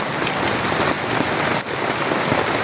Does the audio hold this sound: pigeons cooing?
no